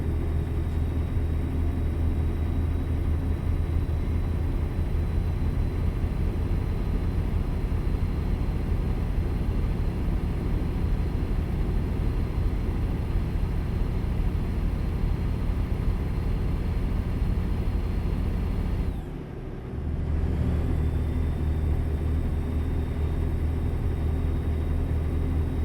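Low steady truck engine drone from American Truck Simulator, a long continuous rumble that drops out briefly for a gear change before resuming.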